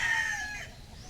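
A rooster crows close by on a farm in Masbate, one drawn-out call that fades toward the end, with no talk over it.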